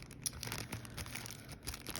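A plastic bag crinkles softly as an eyedropper goes into it, with quiet scattered rustles and small crackles spread across a couple of seconds, faint and close.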